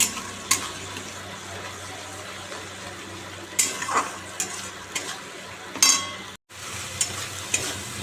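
Spice paste for katla fish curry frying in oil in a pan, a continuous close sizzle broken by scraping stirs and sharp clinks, with one brief dropout.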